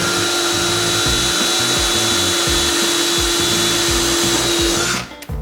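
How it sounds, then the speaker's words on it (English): A power drill with a 9/64 inch bit whines continuously at high speed, loud and close, with a grinding rasp as it bores through a wooden wall cabinet, then stops abruptly. "Take a 9/64 inch drill bit and go right through here."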